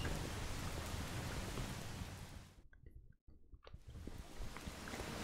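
Rain falls outside an opened window in the Mafia 2 video game, a steady broadband hiss that briefly drops out almost to silence midway, then returns at full strength.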